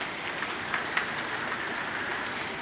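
Hail pattering onto a balcony in a mild downpour: a continuous soft hiss of small impacts with occasional sharper ticks, quiet and steady, no voices.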